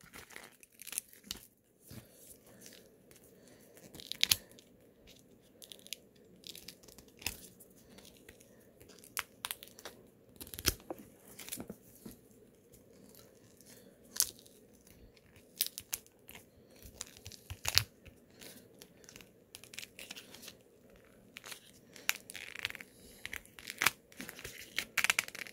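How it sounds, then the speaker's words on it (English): Soft scattered crinkles and tearing snaps as material holding the sides of a homemade silicone mold for casting 1911 pistol grips is peeled away, quiet and close with irregular bursts. "all I'm doing is actually just peeling back all the stuff"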